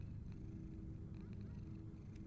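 A cat purrs faintly in a horror video game, a soft low continuous rumble under quiet background noise with a few light higher ticks.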